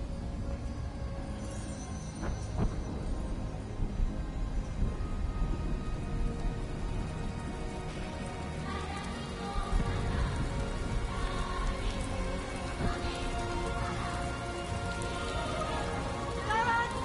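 Rain pouring in Death Stranding 2 makes a continuous dense hiss with scattered drop patter, steady from start to finish with no voices over it.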